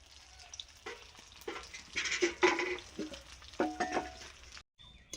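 Parshe fish frying in a pan in a home kitchen, with irregular sizzling bursts and stirring scrapes that swell and fade, then a brief gap of silence.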